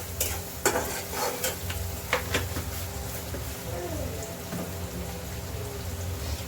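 Food is stirred in a hot frying pan after salt goes in, giving a soft sizzle under repeated scraping and clattering spoon strokes, close by and irregular, with no one speaking.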